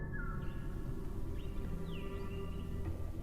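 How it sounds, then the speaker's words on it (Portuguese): Soft, calm birdsong with a few scattered chirps and whistles rising over a steady low background hum, faint and unhurried throughout. "um suave e tranquilo áudio de passarinhos cantando"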